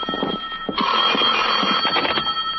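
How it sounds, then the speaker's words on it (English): A telephone bell in an old-time radio drama rings in one long, loud, continuous burst, preceded by a few soft clicks and knocks. "At 10, my phone rang."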